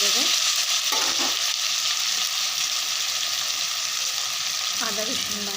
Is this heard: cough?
no